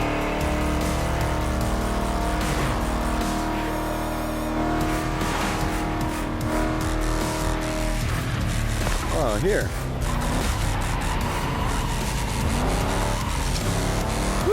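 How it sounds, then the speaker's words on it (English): A vintage car races in The Crew Motorfest video game, its engine revving and roaring steadily with brief tire squeals, under continuous talk and background game sound. "These vintage cars, they sound cool, look good, Piece of history."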